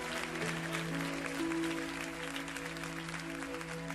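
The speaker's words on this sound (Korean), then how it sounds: "우리 하나님께 다시 한번 큰 영광의 박수를 드렸으면 좋겠습니다." A church congregation applauds steadily during a worship service, a dense wash of clapping over sustained low organ or keyboard tones.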